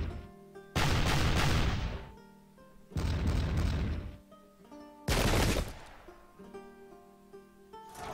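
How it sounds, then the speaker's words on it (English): Musket fire in the English Civil War battle game Pike and Shot: three separate, loud volleys crackle out a second or two apart, each trailing off before the next, with a low tonal background between them. "Residual shooting."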